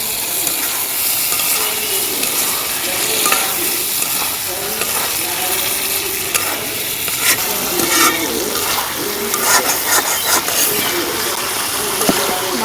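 Fried potato and eggplant pour into a sizzling koi fish curry, a loud, close hiss of bubbling oil with wet stirring and splashy scraping throughout, no speech.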